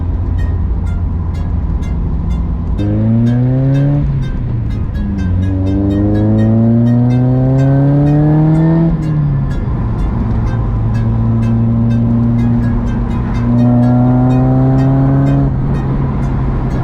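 A Mitsubishi 3000GT pulls hard through the gears, its engine note climbing steeply in several rising sweeps, each broken by a brief dip at a gear change. The engine sounds close and loud, with steady road noise underneath and no talking.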